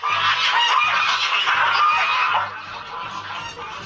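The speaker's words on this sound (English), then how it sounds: "it's a gaggle of geese" A gaggle of geese honks loudly and close, a dense overlapping chorus of harsh nasal calls that carries on without pause and eases off slightly toward the end.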